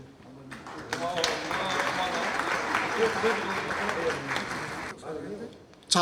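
Audience clapping at an inauguration ceremony for a victim support centre chairman, a continuous wash of hand claps with a voice speaking over it, ending with a sudden louder burst.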